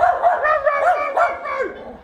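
A dog yips and barks in a quick run of high, close, excited bursts, several in about two seconds, with no talking over them.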